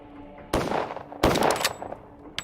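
Gunfire in a Pathologic game fight, two loud close shots each ringing out with a decaying tail, then a fainter short crack at the end.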